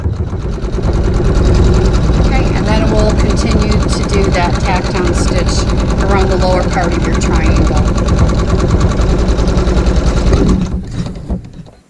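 A sewing machine runs a tack down stitch on a quilt in a steady, continuous mechanical drone at close range, holding nearly the whole time before stopping near the end; no one talks over it.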